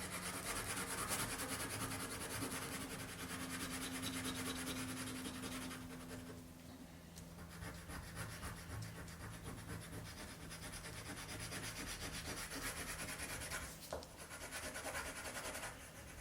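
Wax crayon rubs over scraperboard in a soft, continuous scratchy scrubbing, faint and close, with brief pauses in the strokes.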